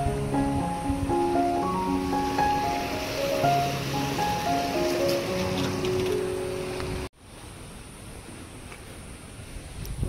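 River water fed by runoff from Malanggad hill rushing past in a steady broad wash, loud and continuous, with melodic music layered over the first part before the music cuts out and the water carries on alone.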